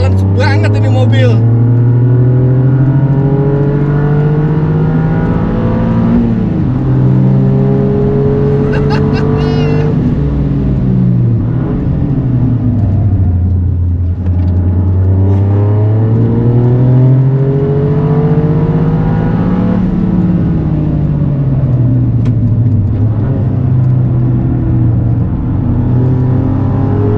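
A car laps the Mandalika circuit during a track day, its engine revving up and dropping back repeatedly as it accelerates through the gears, close and loud throughout, with someone talking over it.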